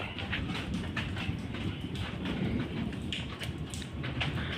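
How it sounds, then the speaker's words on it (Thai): Rain falls steadily outdoors, a dense, even hiss of drops pattering across surfaces with no pauses, close and moderately loud. "ฝนตกเนี่ย"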